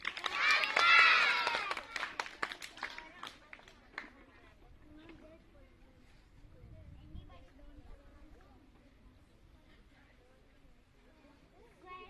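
Children in a classroom clap loudly in a dense burst for about three seconds, the sound then fading into quiet murmuring and scattered noise.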